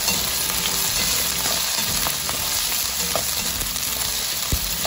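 Potatoes frying in oil in a pan for a beef curry, a steady dense sizzle throughout with occasional faint clinks of a utensil, close and continuous with no voices.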